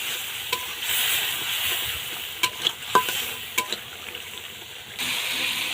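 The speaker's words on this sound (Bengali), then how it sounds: "এবার এগুলোকে সুন্দর করে কষিয়ে নেব মশলাগুলোকে" Ground turmeric, chili powder, salt and coriander sizzle steadily in a pan for a Bengali country chicken curry, with a few sharp scrapes and taps from a spoon stirring the spices.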